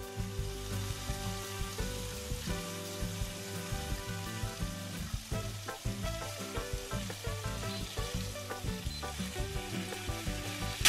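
Pork loin fillets fry in olive oil in a pan with a close, steady sizzle, punctuated by regular light taps and crackles as they are turned.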